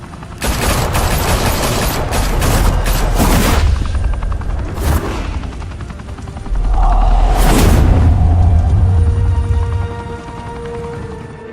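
Sustained volleys of gunfire and booming blasts in Telltale's Batman, set in Gotham, loud and dense with heavy rumbling low end, rising again in a second burst midway before tapering off; no voices.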